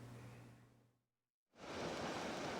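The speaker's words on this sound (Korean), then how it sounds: "방파제가 무색하게 집채만한 파도가 항구를 덮칩니다" Massive typhoon waves crash over a harbor's breakwater in a roaring rush of surf that fades briefly to silence, then surges back loud and sustained.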